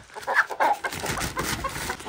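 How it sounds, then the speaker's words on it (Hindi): Chickens cluck and squawk in a coop at night, several birds calling in short, agitated bursts at moderate volume over a quiet background. "मुर्गियाँ चिल्ला रही है, मुर्गियों को लग रहा है कि पता नहीं क्या हो रहा है"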